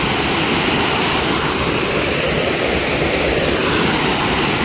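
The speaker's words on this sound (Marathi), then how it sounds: "पाण्याचा आवाज बघा किती येतोय" Loud, steady roar of water rushing over a dam in the Konkan region, India, pouring continuously, a dense broadband wash with no pauses, close by.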